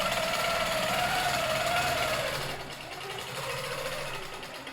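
A Handi Quilter Studio 2 quilting machine runs on its frame with a steady, loud mechanical whir and rapid stitching hum. The sound eases slightly partway through and then carries on evenly.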